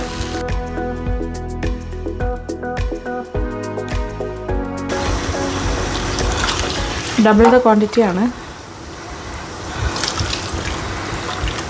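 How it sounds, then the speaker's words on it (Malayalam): Boiling water poured into a pot of chicken curry rice in a home kitchen: a steady splashing pour with gurgling, preceded by clinking and stirring, while a person talks over it. "4 കപ്പ് വെള്ളം ഒഴിച്ചിട്ടുണ്ട്."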